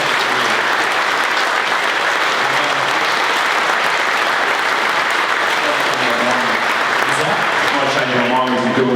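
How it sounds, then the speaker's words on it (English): A live audience applauds steadily and loudly for the whole stretch, the clapping dense and even, with a few voices and murmurs showing through near the end. "I think we should give him a round of applause now"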